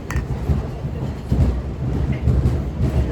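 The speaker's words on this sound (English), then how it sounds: "Welcome to the train to Almaty." Train to Almaty rumbling along in Kazakhstan, a steady low rolling roar with dull thumps and rattles close around, loud and continuous without talk.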